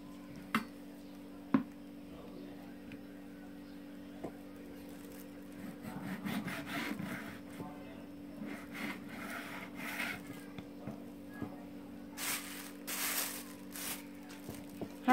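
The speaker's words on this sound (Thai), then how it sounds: "หั่นเป็นชิ้นนะจ๊ะนะ" A knife slices pork belly into pieces on a cutting board, a faint run of scraping and chopping strokes that comes in intermittent bursts over a low steady hum, with occasional soft speech.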